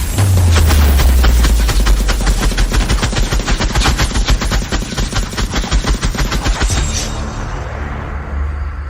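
Rapid bursts of gunfire rattle loud and close in a dramatic scene, a fast string of shots lasting several seconds before cutting off into a lower rumble.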